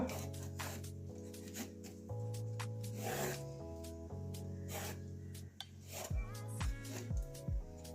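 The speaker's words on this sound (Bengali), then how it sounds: "লাউটাকে আগে ছুলে নেব" A young bottle gourd is peeled by hand, giving faint, repeated scraping and rasping strokes at an irregular pace, with clinks of kitchenware in between, all quiet and close with no talking.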